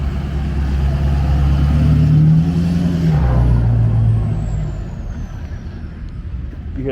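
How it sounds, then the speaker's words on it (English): A turbocharged vehicle engine at a car gathering, with a deep rumble that swells and then eases off, alongside a brief rising whine and a hiss like an air release, close and fairly loud. "You hear that turbo?"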